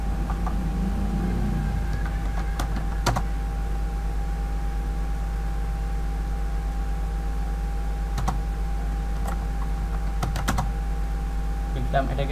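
Computer keyboard typing on a desk, sparse bursts of clicking keystrokes over a loud steady electrical hum, with a voice speaking briefly near the start.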